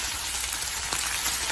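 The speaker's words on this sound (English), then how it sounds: "Nice little sizzle on that bacon." Bacon sizzling in hot grease in a frying pan, a soft, steady crackling hiss held close and faint throughout, with no voices.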